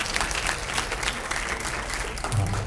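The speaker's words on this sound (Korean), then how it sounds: "큰 박수로 부탁드립니다." A lecture audience in Incheon gives a university professor a welcoming round of applause before a science talk, with dense, steady clapping throughout.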